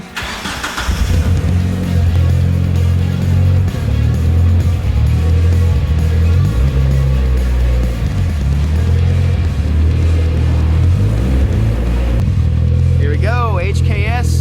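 A Mitsubishi Evo III running on E90 ethanol rumbles loudly and steadily through a carbon fiber exhaust, a deep continuous engine drone with voices talking over it near the end.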